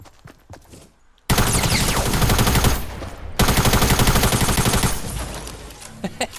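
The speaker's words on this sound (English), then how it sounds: "Oh God, he's shooting right by me." Fortnite gunfire rattles out as dense, loud bursts of rapid automatic shots from very close by. After a short pause it picks up again, then thins into a few scattered single shots toward the end.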